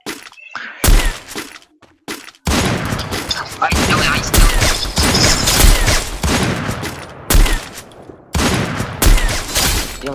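Gunfire in a shooter video game, with AWM sniper rifles in play, arrives as loud, dense bursts of shots and impacts that run almost continuously, broken by a few short pauses.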